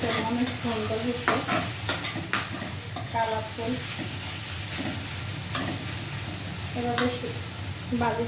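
Okra bhaji stir-frying in a pan, a steady sizzle with scraping and clinks of a utensil moving the okra around, while a voice talks in bursts over the cooking.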